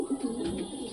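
Soft, steady cooing from pigeons in a loft housing Giribaz and similar fancy breeds, a continuous low murmur nearby with no talking.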